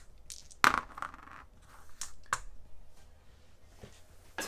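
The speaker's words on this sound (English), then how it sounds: "Alright, roll 2 dice." Two dice clatter onto a tabletop for a Kingdom Hearts Talisman board game, giving a few sharp, close clicks and rattles followed by quieter scattered taps.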